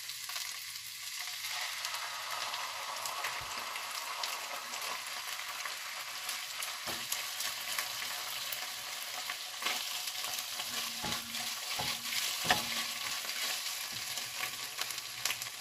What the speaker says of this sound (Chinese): 补加翻少少油啊，要嚟爆下啲腐乳酱